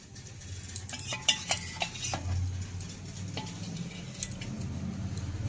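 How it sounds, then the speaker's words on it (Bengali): A hot tadka tempering is poured into idli chutney in a bowl, giving a soft sizzle under sharp clinks of a spoon stirring against the dish. "এবার চাটনিটা এই বাটিটার মধ্যে ঢেলে দিচ্ছি। এবার দিয়ে দিচ্ছি তড়কা।"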